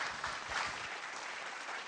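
Audience applause at a junior singing competition broadcast, a dense, steady wash of clapping that holds at an even level for the whole two seconds, with no voices over it.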